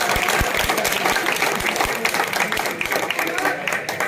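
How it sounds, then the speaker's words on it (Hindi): Crowd applause ringing out at a public felicitation event honouring a gold medal winner, sustained and dense, with an announcer's voice talking over it throughout. "एक बार जोरदार तालियों से बहन आरती राव का जोरदार तालियों"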